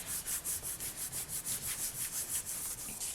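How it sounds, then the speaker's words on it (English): The back of a polymer clay bracelet is burnished in quick, regular rubbing strokes, about five per second, close and steady with no talk. "I'm just going to burnish that, just so that we get a nice smooth finish."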